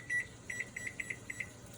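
An oven timer beeps as it is set, giving a run of short, high electronic beeps in quick pairs, faint and alone.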